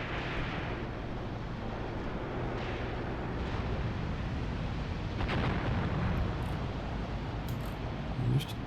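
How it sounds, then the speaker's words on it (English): Anti-tank fire or grenade explosions in the video game Graviteam Tactics, distant muffled booms and rumbling under a constant low background roar, faint and spread out rather than sharp. "It looks like taking anti-tank fire. Maybe it's grenades."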